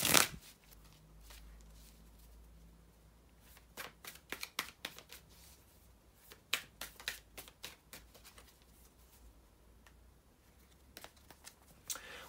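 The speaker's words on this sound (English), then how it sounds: "bear with me a second, guys, to shuffle the tarot cards" Tarot cards being shuffled up close, with scattered quick riffles and soft flicking bursts over a quiet background, no talking.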